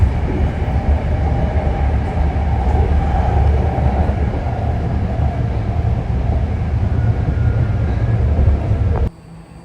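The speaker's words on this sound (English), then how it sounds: "here comes the on-site Richmond train" A BART Orange Line train bound for Richmond rumbles steadily and loudly close by, a dense continuous roar with rail noise that cuts off abruptly near the end.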